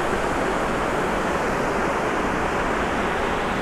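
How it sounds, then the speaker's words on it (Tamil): River water rushes forcefully across a road crossing, a dense, loud, continuous roar of flow with no talking. "இப்போ தண்ணி கொஞ்சம் அதிகமாக போகிறதுனால ரிஸ்க்கு."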